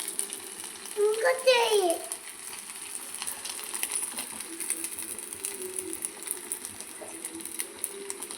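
Rice flour murukku fry in hot oil with a faint, steady sizzle throughout, and a short burst of voice near the start.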